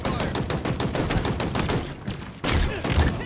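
Dense, rapid gunfire from a Halo Infinite multiplayer match crackles in continuous bursts, briefly pausing and then resuming louder, with heavy thumping impacts underneath.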